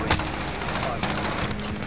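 Shotgun blasts in the game Modern Warfare come as a few sharp, loud reports over dense, continuous game-battle noise and a faint voice.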